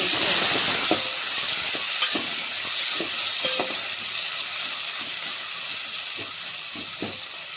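Tomatoes and green chillies fry in hot oil in a pan for tomato rice, with a steady sizzle and hiss under intermittent stirring clicks and scrapes.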